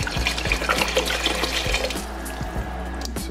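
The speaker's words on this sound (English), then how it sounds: "I'm going to pour 1 glass of wine" A glass of wine, about 25 centilitres, poured into a risotto pot close by, a steady splashing trickle with small gurgles, lasting a few seconds.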